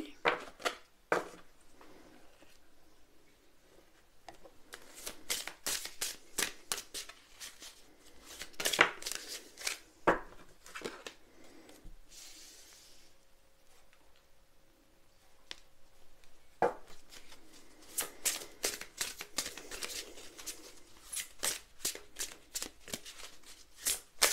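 Tarot cards are shuffled in soft, rapid riffling bursts, pausing now and then before resuming, close and quiet with no talk.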